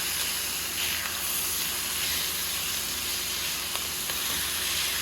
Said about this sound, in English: We're just searing them.